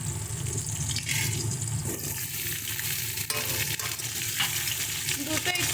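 Potatoes and sweet potatoes frying in a pan, a steady close sizzle with stirring clatter and scraping, fairly quiet and unaccompanied by talk.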